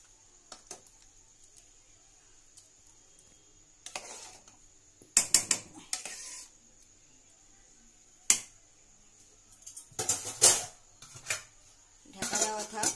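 Khichuri in a pot with ghee and garam masala being stirred, with intermittent scraping and clattering bursts of a spoon against the pot, separated by quiet gaps.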